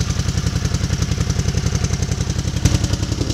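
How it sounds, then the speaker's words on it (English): A 1981 Honda CX500 motorcycle engine idles steadily, close and loud, with a fast even pulsing thump and light mechanical clatter from a broken exhaust with a missing baffle. "As you can see, this bike does run."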